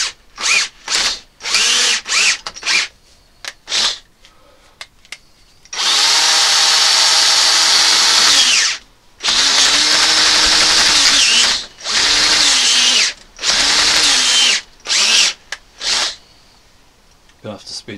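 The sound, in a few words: power drill drilling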